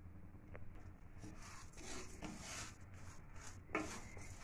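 A spoon scrapes and rubs against a pan on high flame while sugar melts for caramel, a faint irregular stirring scrape with soft repeated strokes and one sharper clink, no voices.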